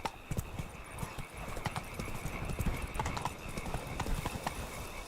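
Roach the horse galloping in The Witcher 3, steady clip-clop hoofbeats close and clear throughout, with a brief whinny and ambient game sound underneath.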